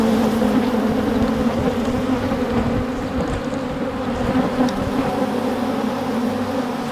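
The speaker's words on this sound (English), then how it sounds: "aggressive hive of bees" An agitated honeybee hive buzzes in a thick, steady drone close by, with many bees swarming continuously and no voices, during a hive split and requeening.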